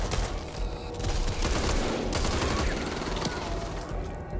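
Dense, sustained gunfire from the co-op zombie shooter Back 4 Blood fills the stretch, rapid overlapping shots with booms, loud and continuous, while players talk over it.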